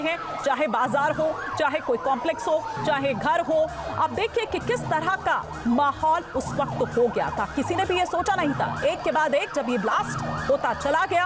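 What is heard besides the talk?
emergency vehicle sirens after pager blasts in Lebanon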